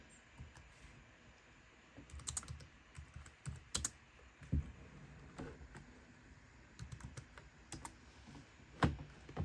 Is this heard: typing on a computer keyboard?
yes